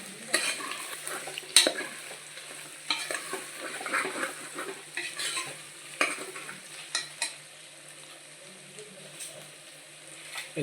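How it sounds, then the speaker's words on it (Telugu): Vegetables with carrot stirred in a pressure cooker for vegetable biryani, a spoon scraping and clacking against the metal in irregular close strokes over a soft, steady sizzle, with no talking. "శుభ్రంగా మొత్తం అంతా మనం ఇలా మిక్స్ చేసుకోండి, కలుపుకోండి."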